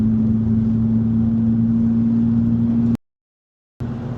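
A BMW M3 on the G8X platform, running E50 fuel, gives a steady, loud engine drone with a strong low hum. The sound cuts out completely for under a second, then picks up again.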